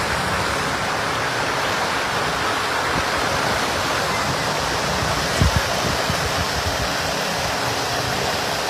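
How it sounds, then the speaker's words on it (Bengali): Floodwater in Moulvibazar rushes past with strong force, a loud, dense and unbroken roar of churning water, close by and steady throughout, with no voices over it. "প্রচণ্ড পানির স্রোত এবং এই পানিগুলো আশপাশ গ্রামগুলোতে গিয়ে প্রবেশ"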